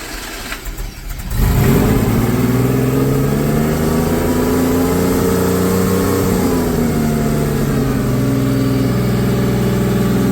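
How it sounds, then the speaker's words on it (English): A 1976 Porsche 930 Turbo engine cranks and catches after a brief quiet start, then settles into a loud, steady run with slow rising and falling revs, close by and alone. "Everything is running really nice on this car, but restarting it, if you don't get it on the first hit,"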